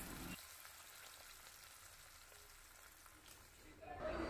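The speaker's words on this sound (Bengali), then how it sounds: "আগে মাছ কটাকে ভেজে নিই" Fish pieces shallow-frying in a pan give off a faint, steady hiss and crackle that hardly changes throughout, with a brief louder swell at the start and again at the end.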